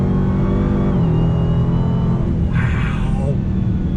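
A supercharged 2020 Dodge Charger Hellcat Widebody four-door muscle car accelerates hard under full throttle, its engine a loud, deep, sustained roar with a brief rise in pitch near the end.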